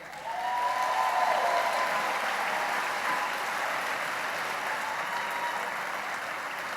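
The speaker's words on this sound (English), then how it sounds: "How about another round of applause?" A large commencement audience applauds steadily at a medical college graduation ceremony, a dense, even wash of clapping that holds at full strength for several seconds and fades only slightly at the end, with no voices over it.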